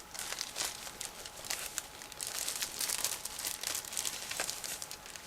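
Plastic bag holding Eduard model kit decal sheets crinkled and crumpled open by hand, a busy run of close, quiet rustles and small crackles with no talk.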